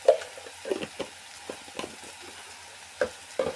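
Turmeric powder and fenugreek are stirred in a hot frying pan, a soft crackling sizzle broken by several sharp scraping strokes of the spoon, close by and fairly quiet, with no voices.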